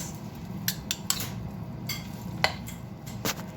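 Spoon clinking against a bowl while mixing an egg and vegetable spring roll filling with pepper and salt, giving scattered light taps and scrapes over low background hum, with no talking.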